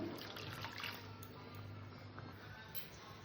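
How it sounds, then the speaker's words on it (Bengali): Water runs steadily into a metal pressure cooker, a continuous splashing trickle with a low resonant hum, close by and without speech. "এবার এখানে আমি জল দিয়ে দেবো"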